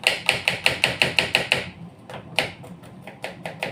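An onion is chopped for a quick pasta and panini lunch in a kitchen chopper machine, giving nine fast evenly spaced clacks, a short pause, then a few more irregular chops.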